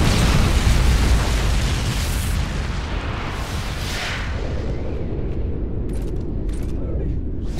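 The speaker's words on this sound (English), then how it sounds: "Friendly Moab incoming." A MOAB strike in Modern Warfare 3 sets off a huge, sustained explosive roar that rumbles loud and dense, slowly easing into a lingering wash of debris and distant blasts.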